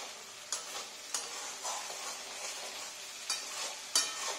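Fish frying in a pan for a breakfast meal, with a continuous sizzle broken by a few sharp stirring scrapes and taps of the utensil against the pan.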